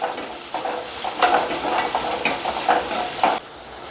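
Tomato and onion sautéing with chicken in a pan, a continuous close sizzle with light stirring scrapes, cutting off abruptly near the end.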